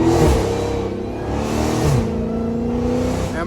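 A Dodge Hellcat drives along a small back road, its engine droning loud and close with shifting pitch as it accelerates and eases off, heard from inside the car without talk.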